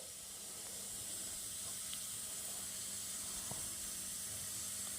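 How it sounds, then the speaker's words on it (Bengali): Chicken pieces fry lightly in a pan for chilli chicken, making a steady, even sizzling hiss throughout, with no talk. "এইভাবে আমি ভেজে নিচ্ছি হালকা করে খুব বেশি কড়া করব না হালকা হালকা করে ভেজে নেবো"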